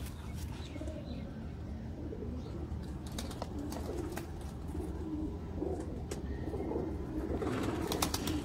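Pigeons coo softly in a Sialkot pigeon-keeping setting, low murmuring calls repeating over a steady outdoor background with a few faint chirps and brief sharp clicks.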